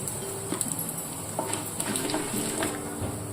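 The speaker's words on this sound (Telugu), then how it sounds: "పచ్చిమిర్చి, అలాగే కొంచెం ఎండుమిర్చి వేగిపోయినాయి." Green chillies and dried red chillies fry in hot oil for pulihora, with a steady soft sizzle and occasional light clinks of a utensil against the pan, close and continuous.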